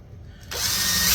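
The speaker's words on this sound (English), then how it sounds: "drill that pilot hole" Power drill boring a pilot hole in birdhouse wood: a low mechanical rattle, then a loud, sustained high-pitched whine that sets in abruptly and holds to the end, close by.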